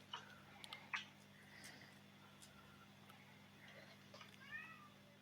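A cat lets out a few short, faint meows over a low steady hum, with small sharp ticks scattered around them in a quiet room.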